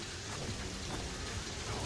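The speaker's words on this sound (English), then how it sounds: "It's raining here like a fucking hurricane" Heavy rain falling outside like a hurricane, a dense steady hiss of drops drumming on surfaces with a low rumbling undertone, fairly faint and continuous with no voices.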